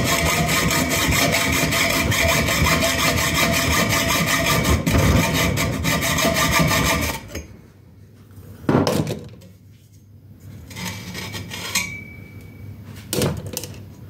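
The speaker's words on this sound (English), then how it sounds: "so because I just got to hacksaw them, file them." Steady rhythmic hacksawing on metal motorcycle drag pipes grinds loudly for several seconds, then gives way to a quieter stretch with a few scattered scrapes and knocks of filing and handling.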